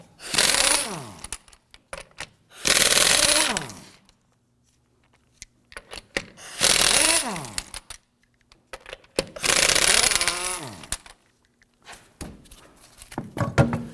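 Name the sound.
loosening and removing lug nuts with a 19mm socket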